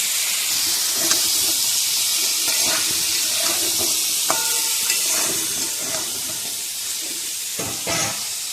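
Pointed gourd and potatoes fry in a pan with a continuous loud sizzling hiss, broken by small pops and scraping stirs, close and steady throughout.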